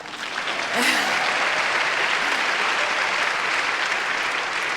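Audience applause fills a church hall for a feminist lawyer from Gaza, a dense, steady wash of many hands clapping that swells in quickly and holds loud throughout, with a brief voice heard at the start.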